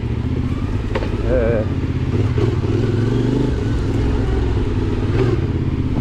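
A CFMOTO Ibex 450 enduro motorcycle climbs uphill on an intermediate enduro track, its mid-pitched engine droning loudly and steadily close by with rev changes, while the rider talks over it.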